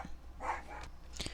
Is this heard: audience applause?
no